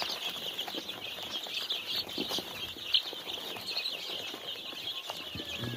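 A flock of young local Nepali chicks cheeping continuously in a high-pitched chorus, with light rustling and fluttering mixed in, steady and close with no talking.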